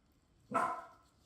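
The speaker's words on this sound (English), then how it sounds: "Excuse my dog, keep barking." A single short dog bark, close and fairly loud, against near silence.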